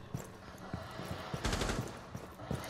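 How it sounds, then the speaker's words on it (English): Gunfire in Rainbow Six Siege comes as short rapid bursts of automatic shots, fairly quiet, with a denser volley near the middle. "I was about to shoot that Lesion."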